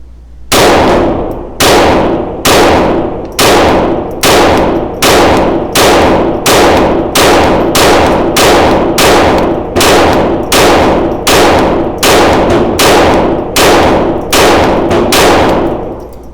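A Sig P322 pistol fires a long string of evenly spaced shots, each hit ringing loudly off a steel target with a sharp metallic clang, about twenty strikes with no talking.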